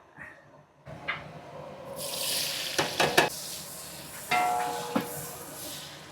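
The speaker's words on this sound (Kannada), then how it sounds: "ಸೂರ್ಯಕಾಂತಿ ಎಣ್ಣೆ ಹಾಕ್ತಾವ್ರೆ" Sunflower oil is poured into a hot pan at a Dindigul biryani eatery, breaking into a loud sizzle after a quiet start, with intermittent sharp clanks and scrapes of stirring.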